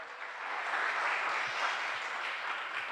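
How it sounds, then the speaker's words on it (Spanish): Church congregation applauding during a Spanish-language sermon, a steady, dense wash of many hands clapping that stays even and fairly loud throughout, with no voices on top. "Dale un aplauso al Señor."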